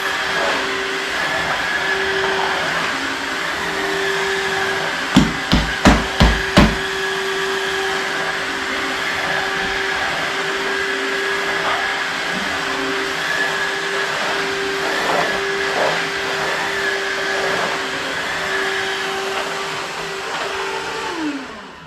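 A vacuum cleaner runs steadily for the whole stretch with a constant drone, picking up grime and glitter from the floor where a Christmas tree stood. A short burst of about five sharp rattling clicks comes near the start, as debris is sucked into the hose.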